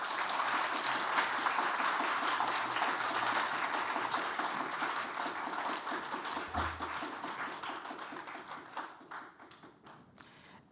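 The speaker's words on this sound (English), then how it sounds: "Please, a round of applause for Mr. Onihira." An audience applauds after an award introduction at a cultural event, dense steady clapping that gradually thins and fades toward the end, with no speech over it.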